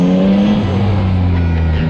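A Yamaha MT-09 motorcycle engine pulls under acceleration, its steady close-up drone holding a low pitch that eases downward across a brief stretch, alone with no voices.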